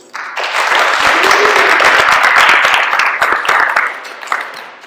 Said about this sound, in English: I actually want to give yourselves a round of applause first